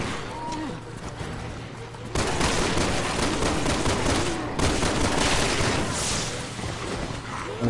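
Gunfire in a Resident Evil survival horror video game, a loud dense volley of shots that starts abruptly and continues in heavy rattling waves over game ambience.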